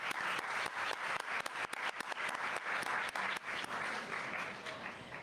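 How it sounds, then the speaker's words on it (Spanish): Sustained audience applause at a conference on consular work at the Mexican Consulate in Washington, a dense, steady wash of many hands clapping that stays loud and close for the whole stretch with no talk over it. "Le damos un aplauso."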